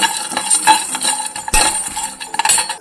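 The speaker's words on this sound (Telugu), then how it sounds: "ఇక్కడ నేను వేసిన విధంగా ఇలా మళ్ళీ ప్యాన్లోకి ఇలా వేసేసుకోండి ఇప్పుడు ఫ్రై చేయండి" Coriander seeds are fried in a pan, giving close, busy rattling and scraping as they are stirred, with brief metallic clinks and no speech.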